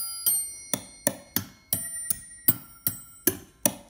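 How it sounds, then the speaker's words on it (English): A homemade chime made from a wood drill bit hung from a Styrofoam cooler is struck about nine times in a steady rhythm, each bright metallic ping ringing out and decaying before the next. "makes a really nice like noise, like a chiming noise, like a chime"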